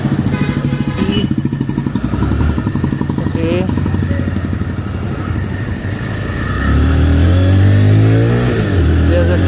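A TVS Raider 125 motorcycle engine putters and revs while riding in light rain, the exhaust note rising and falling, with someone speaking briefly over it.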